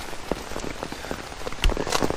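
Heavy rain pours down in Mooresville, North Carolina near Lake Norman, a loud, dense patter of drops hitting surfaces close by with sharper splats mixed in, and no voices.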